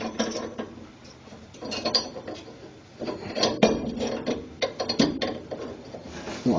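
A hand ratchet clicks in quick uneven bursts close by, loosening the bolts on a Superior over-leaf spring assist kit, with short pauses between runs of clicks and some metallic rubbing.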